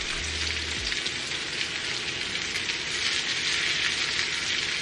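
Lamb chops pan-sear in butter with a steady, dense sizzle that holds evenly throughout, close and fairly loud, with no voices.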